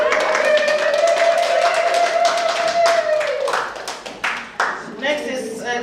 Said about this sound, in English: We all clap for us, would you?